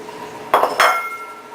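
Batter being mixed with sugar in a bowl for clafoutis, two sharp utensil clinks and scrapes against the bowl in quick succession, close and fairly loud over a quiet room hum.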